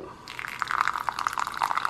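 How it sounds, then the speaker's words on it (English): Water is poured into a bowl of oats, a close, bubbly trickle with quick splashing drips that begins abruptly and continues to the end, with no speech. "Then I just put some water in it."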